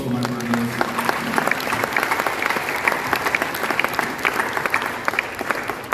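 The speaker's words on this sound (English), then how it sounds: "A big round of applause for my panelists." Audience applause for panelists on stage at a conference on African prosperity, steady dense clapping holding for several seconds at moderate loudness, with faint voices underneath.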